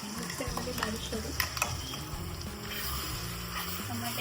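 Tomato paste made from three blended tomatoes sizzles in a pan over golden fried onion paste for chicken dum biryani, with steady frying hiss and scraping stirs of a spoon close by.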